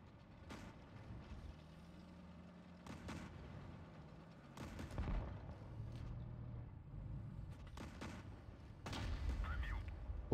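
Tank cannon shots in World of Tanks Blitz, played on an SU-101, boom out as several sharp, heavy blasts spaced a few seconds apart over a low engine rumble, with someone talking at times.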